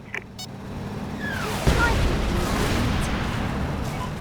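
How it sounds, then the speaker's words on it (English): Missile artillery shelling in the video game Mercenaries 2: World in Flames, with rockets striking a road. A rising whistle is followed by a heavy impact about halfway through, and then a sustained rumbling roar of shelling continues to the end. "Watch out for missile artillery coming in. The road is getting shelled."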